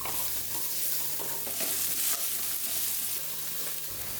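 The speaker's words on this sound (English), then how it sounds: "add in 4 garlic cloves chopped, 1 inch of minced ginger, and fry for a few seconds" Chopped garlic, ginger and diced onion fry and sizzle in a pan, a steady close hiss with light stirring scrapes, no voices present.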